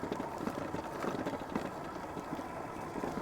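Electric motor of a Puckipuppy Labrador Pro e-bike running on throttle only over semi-rough terrain, a steady broadband drone with rolling noise throughout, close and continuous.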